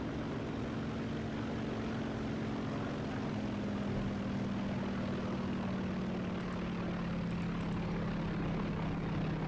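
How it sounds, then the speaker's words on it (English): A one-winged jet in a video game drones steadily as it flies around, a continuous engine hum with a slowly falling tone that runs for several seconds with no speech. "it's just flying around in this one-wing jet"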